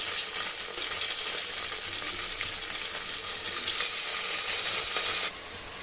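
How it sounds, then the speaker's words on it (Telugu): Chicken pieces fry with onions in a pan, giving a loud, even sizzle close by that runs for about five seconds and then suddenly drops away to quiet. "ఈ చికెన్ని ఒకసారి కలుపుకొని కొంచెం కుక్ చేసుకోవాలండి"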